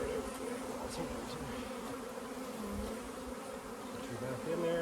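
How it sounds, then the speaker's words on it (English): Honey bees buzz around an opened hive during a hive split, a steady, soft, close drone of many insects with no talking. "I got a ton of bees right at my feet here"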